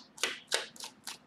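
Tarot cards are shuffled by hand, four quick soft riffling bursts in an uneven rhythm, close and faint, with no talk.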